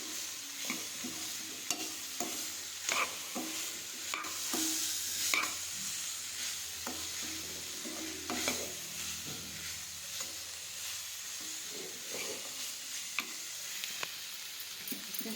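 Khoya mixed with sugar and cardamom powder is stirred in a pan for gujiya filling, giving soft scraping and stirring strokes at an irregular pace with a faint sizzle beneath, close by and with no talking.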